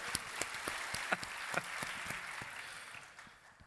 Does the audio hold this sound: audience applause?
yes